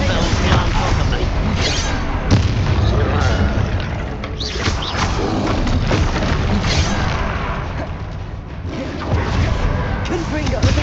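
Booming spell blasts from Hogwarts Legacy combat, the Confringo fire spell bursting in loud, dense explosive thuds across a continuous wall of battle noise, with a voice calling out under the din.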